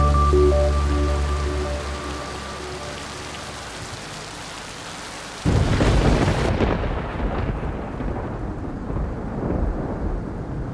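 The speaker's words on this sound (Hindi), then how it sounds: "ये बारिश भी बहुत हो रही है, कोई कसर नहीं छोड़ रही" Heavy rain with rumbling thunder in a dramatic film scene, a loud hiss of downpour surging in abruptly after a musical passage and continuing steadily to the end.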